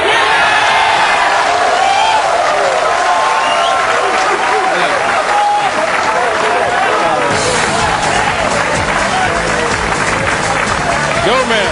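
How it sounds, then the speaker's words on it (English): A large crowd at a professional pool match roars and cheers after a winning shot, a loud, sustained wall of whoops, applause and babble that swells midway and carries on throughout. "We're just going to let the crowd tell you all about it."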